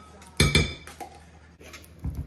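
Spoon clinking against a mixing bowl while breaking egg yolks for a pumpkin dump cake, a few quick sharp taps in two pairs, close and distinct, with a last knock at the end.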